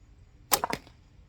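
One arrow shot with a Sasanian-style draw, a crisp release snap followed by a quick rattling double knock, loud and close against a quiet background.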